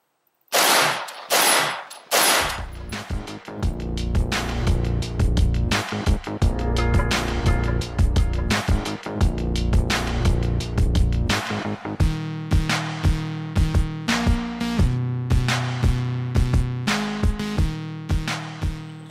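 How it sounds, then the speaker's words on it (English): Rapid gunfire from a Head Down Products PV-13 AR-15 rifle, loud and close, with several fast strings of shots followed by a steadier run of evenly spaced single shots. "But for now, back to shooting."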